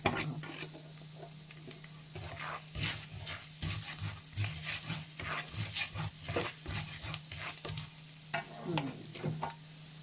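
Chopped garlic frying in butter in a pan for a Thai omelette: a steady sizzle broken by frequent scraping, stirring strokes, close and fairly loud, with no talking.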